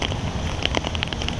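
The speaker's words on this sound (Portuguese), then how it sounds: "Afinal, tá chovendo," Rain falling during a street running race along the Botafogo seafront, heard as a dense steady patter with scattered drips and wind buffeting close to the microphone.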